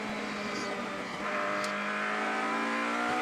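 A DTM race car accelerates hard at the Zandvoort circuit, its engine note rising in a loud, continuous scream with strong harmonic whine that swells steadily throughout as the throttle opens.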